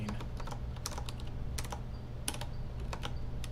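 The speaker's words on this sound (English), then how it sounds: "I don't know where vertical bar is on this freaking keyboard." Fingers type on a computer keyboard with irregular bursts of key clicks over a low steady hum, close but fairly quiet, no talk.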